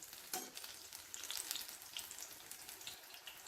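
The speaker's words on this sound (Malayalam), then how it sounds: "അപ്പം നമുക്കിത് തിരിച്ചും മറിച്ചും ഇട്ട് വറുത്തെടുക്കാം." Paneer pakoda fry in hot oil while being turned over, a faint, steady crackling sizzle with light bubbling spatters close by and no talking.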